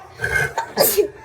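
A child sneezes once: a short breathy build-up, then a sharp burst, close and fairly loud, with nobody speaking.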